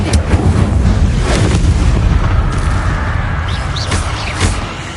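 Incendio fire spell cast in the video game Hogwarts Legacy, a loud fiery burst with crackling, booming impacts and a sustained roaring whoosh, close and dense, with no talk over it.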